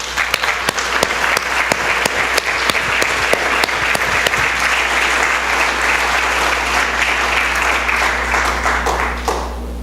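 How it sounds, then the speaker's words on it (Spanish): A church congregation breaks into loud, steady applause, with sharp individual claps over a dense roar that fades toward the end above a constant low hum. "yo le voy a dar un aplauso al Señor, porque eso me emociona"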